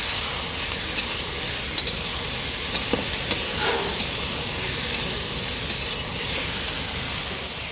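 Spices with salt and turmeric fry in hot oil for an Assamese fish curry, a loud continuous sizzle with occasional light ladle taps, close up and without talk.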